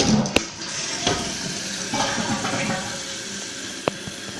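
A 2010 Kohler Wellworth toilet flushing, a 1.6 gallon per flush tank, with steady rushing water running throughout and a few sharp clicks and knocks, close by.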